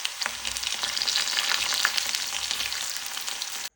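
Ivy gourd (kovakka) fry sizzles in a pan with a steady, dense, close hiss and crackle that runs unbroken throughout, with no voices.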